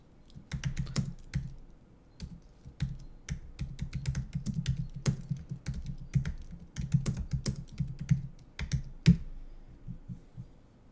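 Steady typing on a computer keyboard as a project title is entered in design software, a continuous run of close, quick key clicks with uneven rhythm and occasional louder strikes, no voices.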